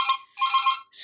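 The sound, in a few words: phone ringtone ringing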